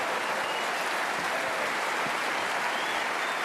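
Dense, sustained applause from the Crucible snooker crowd at the 2024 World Championship semi-final, greeting David Gilbert's century break of 106. The clapping is loud and steady throughout, with no voices over it.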